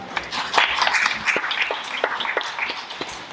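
Poetry conference audience applauding after a poem is read, a moderately loud, fairly close burst of clapping with distinct individual claps that swells and then thins out, with no talk over it.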